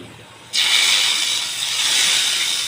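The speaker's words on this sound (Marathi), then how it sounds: "फोडणी टाकूया आपली" Hot tempering poured into palak paneer with spinach and paneer sizzles loudly, bursting in suddenly and holding a steady bright hiss to the end with no talk.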